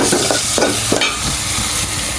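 Vegetables sauté in oil with a splash of water in a pan, a close, continuous sizzle broken by several scraping stir strokes early on.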